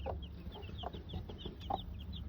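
Chickens in a coop give soft, scattered clucks and short calls at moderate distance over a low background rumble.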